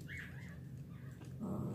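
Newborn Shih Tzu puppies whimper in thin, high, wavering cries, with a low rumbling murmur underneath that grows louder near the end.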